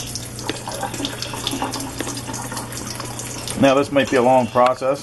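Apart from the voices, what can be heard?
water draining from boiled potatoes through makeshift sieve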